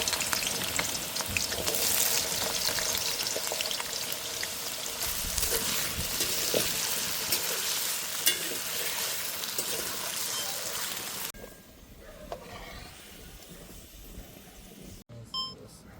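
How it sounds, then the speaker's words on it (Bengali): Pork pieces for pork masala fry in a pan with a loud, crackling sizzle that runs for most of the stretch, then drops to a quieter, fainter hiss with a few scattered clicks. "আমরা ভেজে নেবো"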